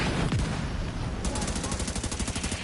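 Rapid gunfire and thudding mortar blasts in The Division 2 shooter game, a dense burst of rattling automatic fire in the second half after a heavy rumble, loud and close, no talking.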